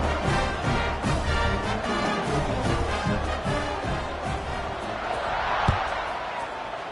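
Stadium crowd at a football game roaring steadily just before kickoff after an extra point, with sustained broadband cheering and a brief sharp thump near the end.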